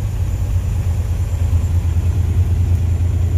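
A road vehicle engine, just double-clutched into seventh gear, runs with a loud, steady low rumble and drone that stays even throughout, with no speech.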